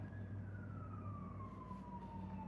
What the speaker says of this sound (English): Hang on, you hear that siren back there?